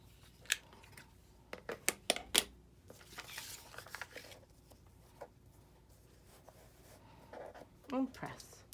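Scissors snip through quilt fabric for a star block in a few sharp, close cuts in quick succession, followed by quieter handling rustles and a soft voice near the end.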